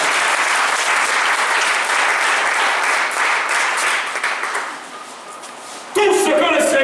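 A church congregation claps in sustained, dense applause that fades away near the end, and then a voice begins speaking.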